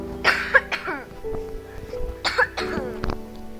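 A person recording while playing Minecraft coughs and clears their throat, with a few harsh, close bursts in two clusters separated by a brief lull.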